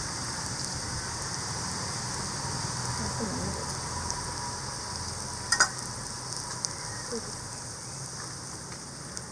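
An egg and vegetable omelette fries in a pan over an outdoor village fire, a soft, continuous sizzle at low volume with a couple of brief clicks near the middle.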